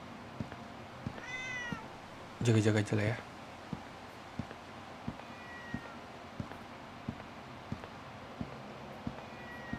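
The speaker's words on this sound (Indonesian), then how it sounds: "Ada kucing dong." Cat meows inside the horror game GLITCH Dead Loop, a few short faint mews under regular footstep thuds, along with a louder burst and a person talking.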